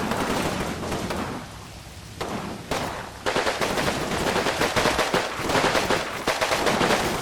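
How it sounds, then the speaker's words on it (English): Gunfire in the Combat Mission wargame rattles as dense, rapid bursts of shots and crackling fusillades, loud and continuous with brief lulls between volleys. "Okay, now we're shooting back."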